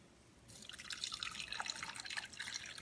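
Braising liquid for Chinese BBQ rib glaze being strained, a soft steady trickle and dripping of liquid starting after a brief quiet moment and continuing to the end.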